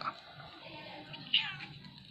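A faint, nearby cat mews softly and drawn-out at an abandoned house, with a slightly sharper cry near the end, against quiet background noise.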